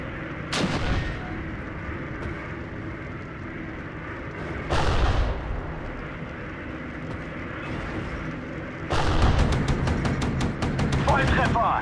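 Artillery fire in the World War II strategy game Steel Division 2: three heavy blasts with rumbling tails, the last followed by rapid crackling secondary reports, over continuous battlefield noise with some voice activity.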